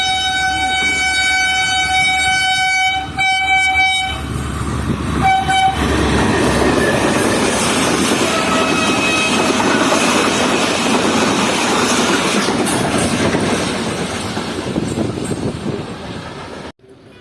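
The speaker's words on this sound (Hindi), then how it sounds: "ये आ रही है 149 अब मेहरान एक्सप्रेस।" The Mehran Express pulls into Dabheji railway station, sounding a long, loud multi-tone horn. The horn gives way to a heavy, rumbling roll of wagons passing close by, which continues steadily before easing at the end.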